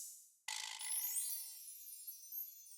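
A single bright gyro percussion chime from the Contact sampler strikes once, then shimmers and rings out with a long, slowly fading metallic sustain, close and alone.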